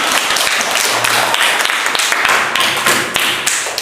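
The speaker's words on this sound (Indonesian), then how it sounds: "maka kita berikan aplaus bersama-sama" Classroom applause after students' group presentations: a few seconds of steady, close, busy clapping from many hands with no talk over it.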